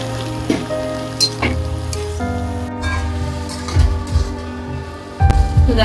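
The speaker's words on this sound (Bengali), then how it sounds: "তো দেখো এখন চেরা কাঁচা লঙ্কা দিয়ে দেবো" Slit green chillies hit a hot pan and crackle in a steady, close sizzle, with occasional stirring clatter and a few sharp pops.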